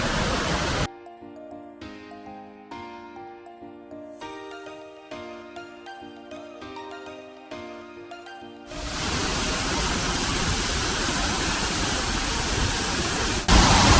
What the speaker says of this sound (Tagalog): Here is a waterfall.